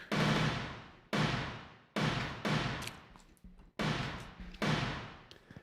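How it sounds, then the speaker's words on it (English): Snare drum room sample in a prog metal mix: six loud, roomy snare hits with long reverberant decays, struck in an uneven rhythm and heard alone. "the sample that I'm adding in is what I call the snare room,"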